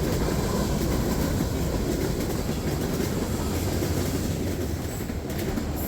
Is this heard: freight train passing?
yes